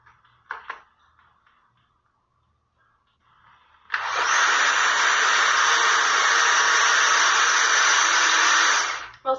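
Blender mixing chocolate cake batter: after a few faint clicks and knocks, the motor starts abruptly and runs as a loud, steady whir for about five seconds before cutting off.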